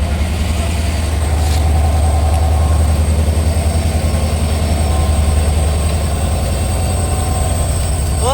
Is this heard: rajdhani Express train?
yes